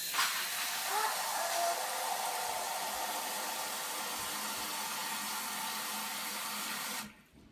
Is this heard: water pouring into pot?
yes